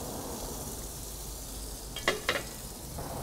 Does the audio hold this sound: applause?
no